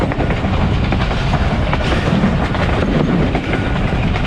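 The 130DN Thal Express passenger train running between Rawalpindi and Multan, a loud continuous rumble with rhythmic wheel clatter on the rails, steady and close as if heard from onboard.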